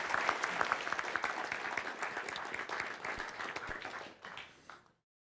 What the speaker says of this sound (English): give a big round of applause for Juan.